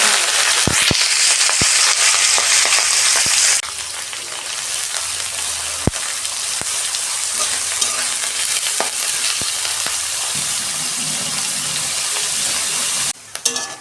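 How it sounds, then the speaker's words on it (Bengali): Shredded cabbage fries in white oil in a kadai, a loud, constant sizzle, with the sound easing after a few seconds and occasional sharp clacks of a utensil stirring and scraping the pan. "প্রথমে আমি তেলেতে বাঁধাকপির বেরেস্তাটা করে নেব।"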